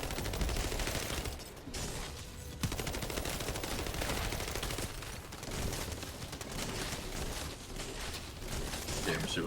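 Rapid automatic gunfire from the video game The First Descendant, dense continuous bursts with brief gaps, loud and sustained throughout.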